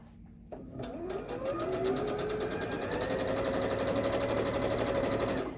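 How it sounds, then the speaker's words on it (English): Sewing machine stitching a quarter-inch seam on quilt squares; the motor starts up and runs in a steady, close, rapid whir with rising pitch for several seconds before slowing at the end. "I am going to use my guide to sew right down that line"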